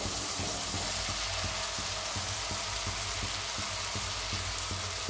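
Cashew masala sautéing in a pan, a dense, loud, steady sizzle with a faint regular tapping knock underneath, close up and without talk.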